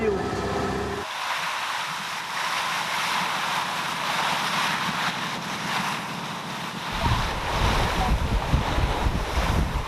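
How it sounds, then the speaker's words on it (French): Strong wind buffets the microphone over surging sea waves in the Mozambique Channel, a continuous loud wash of surf and gusts with a low engine-like rumble beneath, heard close from aboard a small boat. "Tu dois contrer le vent en allant dans le sens des vagues pour ne pas embarquer de l'eau"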